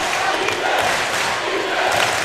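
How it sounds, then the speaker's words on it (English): A crowd in a gym at a college basketball game cheers and shouts loudly and steadily, a dense roar of many voices. "The crowd's getting back into it."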